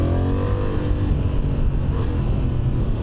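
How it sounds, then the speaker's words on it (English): A 2025 Honda CB750 Hornet motorcycle pulls hard and quick-shifts from second to third, its engine a loud, close, continuous roar with a brief pitch drop at the shift, over wind rush. "Quick shift from second up to third, nice and easy."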